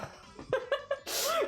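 A single sharp sneeze bursts out near the end, preceded by a few short breathy laughs and giggles, close and clear.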